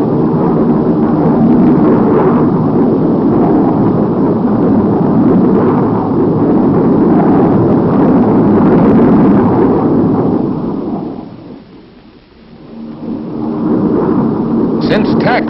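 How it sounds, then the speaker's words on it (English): A Republic F-105 Thunderchief jet fighter roars past loud and close, a broad rushing blast that swells, fades away near the end, then rises again. "And this is the Republic F-105 Thunder Chief."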